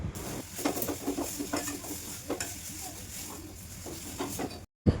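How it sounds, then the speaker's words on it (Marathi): Mashed potato is sautéed in a pan with hing, turmeric and salt, its soft sizzle broken by repeated scraping and stirring strokes of a spoon, heard close and fairly quiet, then cutting out briefly near the end. "कुस्करलेला बटाटा टाकून थोडं परतून घ्यायचं आहे"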